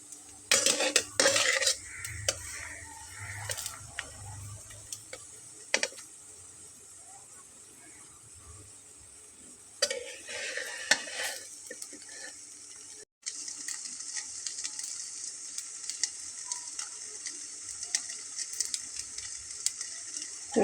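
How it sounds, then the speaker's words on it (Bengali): Folded flour snacks fry in a pan over low heat, with bursts of sizzling and clattering utensil clinks early on, then a quieter, steadier frying hiss. "তো ঠিক এভাবে একে একে আমি সবগুলোকে ভেজে নেব"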